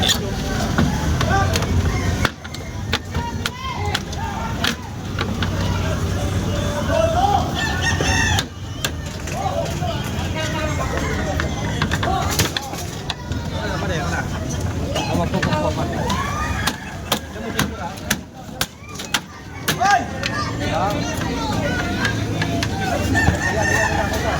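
Fighting roosters crow and cluck repeatedly in a busy Manila neighborhood, loud and close, mixed with people talking and background street noise throughout.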